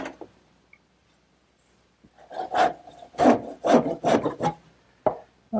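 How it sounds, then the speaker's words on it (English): Wooden candle stand column being cut to length in a woodworking shop, a series of rasping saw strokes starting after a quiet pause, fairly close and loud, with no talking. "now I'm ready to cut it to length."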